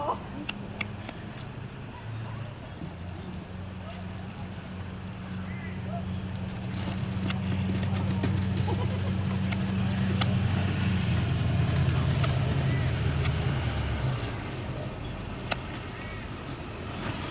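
A mini horse runs and plays with a ball, its hooves clip-clopping in a quick, uneven rhythm under a woman's chatter.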